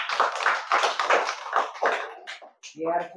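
Young children in a village primary school classroom clap together in quick uneven bursts, a loose rhythmic patter of small hands, before a voice speaks at the end.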